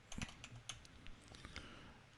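Fingers tap a computer keyboard in a quiet room, a quick run of soft, close clicks in uneven rhythm, each keystroke short and crisp over a faint background hiss.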